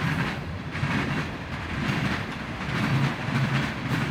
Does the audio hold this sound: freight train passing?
yes